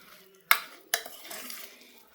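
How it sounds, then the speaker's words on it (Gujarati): Ghughra masala filling being stirred and mixed in a pan, two sharp scraping clinks of the spoon against the metal followed by soft rustling stirring, close and fairly quiet. "હવે આપણે એને હલાવી લઈશું, બધું મિક્સ કરી લઈશું સરખી રીતે."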